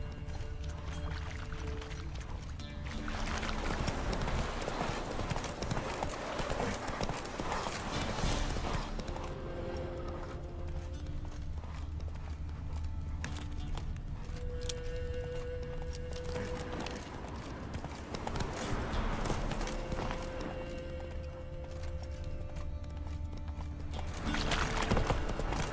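Roach the horse from The Witcher 3 galloping, a steady clip-clop of hooves running through the whole stretch with music-like tones and game ambience layered over it.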